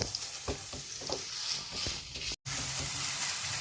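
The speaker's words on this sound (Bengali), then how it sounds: "এখন এভাবে ছানাটার মধ্যে আগে চিনিটা আমি ভালো মতো নেড়ে চেড়ে মিলিয়ে নেব।" Sugar is stirred into chhana cheese in a pan for a sweet, with soft repeated scraping strokes under a steady sizzling hiss, close and fairly even, broken by a brief dropout, and no talking.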